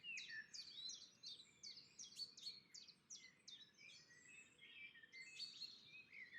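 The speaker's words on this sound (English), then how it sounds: "Birds are waiting for the sunrise too." Several birds sing before sunrise in the Texas Hill Country, near a church property: repeated high chirps and short warbling phrases overlap continuously, fairly close but soft, over a faint low background hum.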